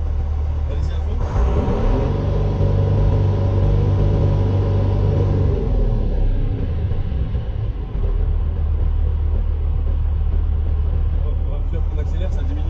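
A heavy truck engine held at full throttle during a roadworthiness emissions test: a loud, steady low rumble with a stronger droning surge early on, continuing throughout while people talk nearby.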